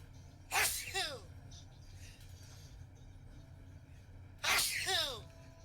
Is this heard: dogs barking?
no